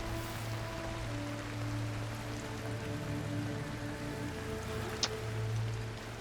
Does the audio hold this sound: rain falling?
yes